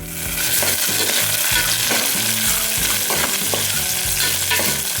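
Cumin seeds sizzling in hot oil, a loud, dense, continuous crackle close by that holds steady throughout with no voices.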